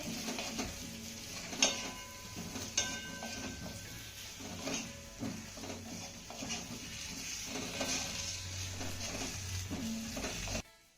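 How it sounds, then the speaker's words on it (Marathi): Stuffed bitter gourds sauté in a pan, a low continuous sizzle broken by repeated clinks and scrapes of a utensil against the pan, close and fairly quiet. "त्यानंतर ही कारली आपल्याला दोन ते तीन मिनिटं चांगली परतून घ्यायची आहे"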